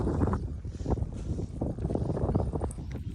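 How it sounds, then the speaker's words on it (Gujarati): Strong wind buffeting near a canal by a school on a stormy afternoon, rumbling in continuous gusts with a low roar that rises and falls throughout. "પવન તો એટલો આવે છે ને વાત જ નહીં"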